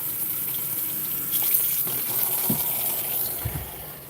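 Hot water running from a tap into a container in a lapidary workshop, a steady close gushing stream with a few small knocks and splashes partway through, no talking.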